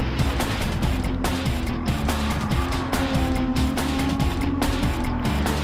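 Porsche and Subaru race cars on a circuit: continuous loud engine roar with shifting pitch, gear changes and passing cars, tire noise mixed in, steady throughout with no talking.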